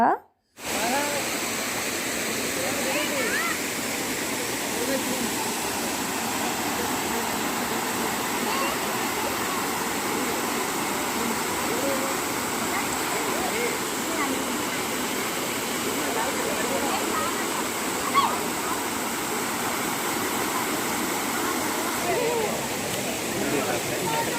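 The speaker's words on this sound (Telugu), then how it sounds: "ఇదిగోండి ఇదే అనంతగిరి వాటర్ ఫాల్స్" A constant, even roar of falling water from Anantagiri Falls in Araku Valley fills the air, unbroken and fairly loud throughout, with no voices.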